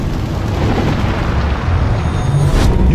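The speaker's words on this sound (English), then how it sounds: "it's a nuclear explosion." A deep, continuous roaring rumble of a nuclear explosion fills the clip, loud and broadband like a massive sustained blast.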